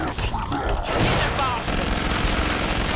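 Flash bombs in a video game explode amid rapid bursts of gunfire, a dense, loud crackling barrage that continues throughout, with excited voices shouting underneath.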